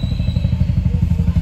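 A motorcycle engine thumps close by in a fast, even, pulsing rhythm, loud and alone with no talk.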